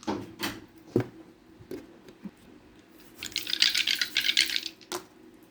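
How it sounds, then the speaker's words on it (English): Dice rolled for a tarot reading rattle and clatter across a surface for about a second and a half, after a few scattered knocks and drips, ending with one sharp tap. "So we'll do the dice."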